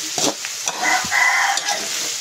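Cooking oil heating in a pan for sautéing shrimp paste, with a soft sizzle and scattered spattering pops that swell and fade, no voices.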